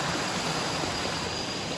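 Water flows steadily over rocks at Phlio waterfall in Chanthaburi, Thailand, a close, constant broadband rush filling the whole clip with no voices.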